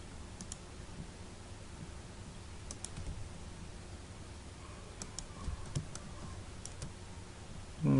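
Keys clack on a computer keyboard during Photoshop 7.0 editing on Windows 7, with backspace presses coming as scattered, close, sharp clicks in small clusters over a quiet hiss, with no speech.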